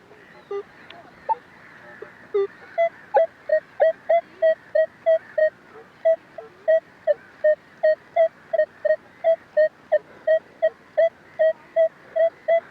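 A Minelab X-Terra Elite metal detector sounds a repeated short mid-pitched beep over a buried Roman silver denarius, pulsing steadily about twice a second, loud and clear above faint background hiss.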